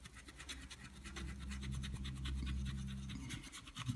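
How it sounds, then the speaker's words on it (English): Dry brushing paint over the raised details of a DeAgostini Millennium Falcon model gives a faint, continuous bristly scratching of quick back-and-forth strokes, heard close up. "That's what dry brushing is all about."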